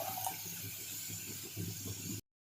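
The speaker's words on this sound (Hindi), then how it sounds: "इसमें दूध डालेंगे" Milk poured steadily into a pan holding melted ghee and flour for an Alfredo pasta sauce, a continuous close liquid rush that cuts off abruptly near the end.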